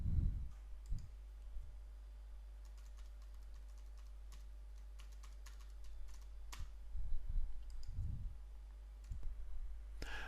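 Mouse and keyboard clicks during a Joomla 3 standard website installation, a scattered run of small, close, quiet taps and clicks over a low steady hum, with no talking.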